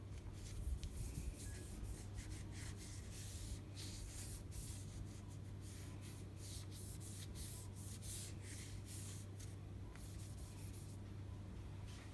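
Alcohol wipes rubbed across a Lexus IS-F touchscreen during a repair, giving a faint, steady hissing swish of wiping that continues without pause against a low background hum.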